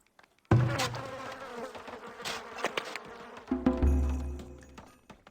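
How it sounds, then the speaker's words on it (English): In the Farthest Frontier video game, bees and flies buzz at a compost heap, a close, busy drone of many insects that starts abruptly and surges again near the end. "What's with all the bees?"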